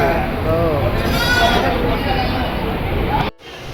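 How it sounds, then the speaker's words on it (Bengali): A Jaunpuri goat at a crowded animal market bleats in drawn-out, wavering calls that carry on for several seconds over loud crowd babble, then cuts off abruptly. "ছাগল।"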